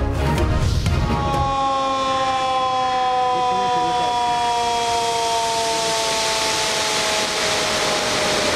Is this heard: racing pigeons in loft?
no